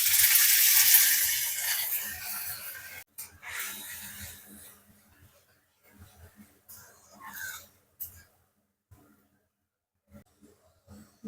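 Cumin seeds, a dried red chilli, green chillies and ginger paste hit hot oil for a vegetarian palak paneer, giving a loud hissing sizzle up front that settles into quieter, intermittent crackling and spits.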